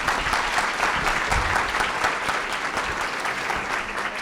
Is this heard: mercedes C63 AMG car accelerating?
no